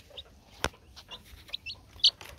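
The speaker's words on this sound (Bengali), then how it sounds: "এটা হলো একটা টাইগার মুরগির বাচ্চা" A newly hatched tiger-breed chicken chick on a farm makes several short, high cheeping peeps at irregular intervals, with a few soft taps and rustles between the calls, close and fairly quiet.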